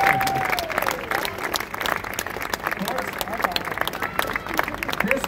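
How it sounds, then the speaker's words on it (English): An audience claps along during a juggling comedian's unicycle balancing act, with fairly rhythmic, close hand claps running throughout under a voice and crowd murmur. "clap your hands if it's hard"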